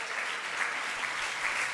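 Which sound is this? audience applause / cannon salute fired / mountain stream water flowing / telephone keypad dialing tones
audience applause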